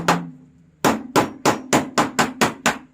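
Eight sharp hammer blows ring out close by, one isolated strike then seven in a steady, quick rhythm, each with a short metallic ring.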